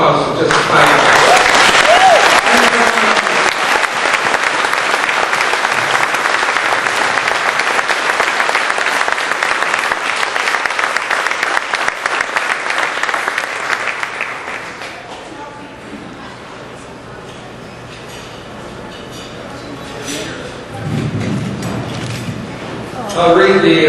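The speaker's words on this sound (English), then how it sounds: "So let's have a round of applause for just a pilot." An audience at an awards dinner honoring aviators gives sustained, dense applause for about fifteen seconds before it thins out, and a speaker then begins talking.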